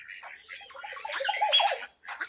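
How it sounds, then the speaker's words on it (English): A Montezuma oropendola lets out a run of liquid, gurgling notes that climb and tumble into a rich, bubbling flourish, clear and fairly close, ending on short sharp calls. "that was the sound of a Montezuma oropendola"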